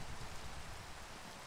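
Rain falls steadily in Pixelmon, a Pokémon mod for Minecraft, a soft continuous hiss of game rainfall with no voices or other sounds over it.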